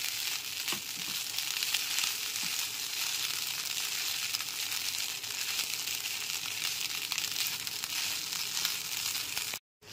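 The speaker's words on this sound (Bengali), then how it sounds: "চিড়ে আর বাদামটাকেও খুব ভালো করে সবজির সাথে মিশিয়ে নেব।" Flattened rice and peanuts stirred with vegetables in a pan, a steady moderate sizzle with soft scraping and crinkling from the spoon, cutting off abruptly near the end.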